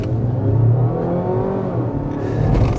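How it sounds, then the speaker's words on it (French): Mazda CX-60 PHEV, the 327 hp plug-in hybrid with an eight-speed gearbox, accelerates hard, its engine droning steadily and rising in pitch, close and loud with no talk. "Je vais un peu ralentir et je vais juste accélérer."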